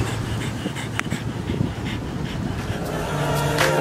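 A dog panting at Halona Cove on Oahu: quick, rhythmic breaths close by over steady outdoor background noise.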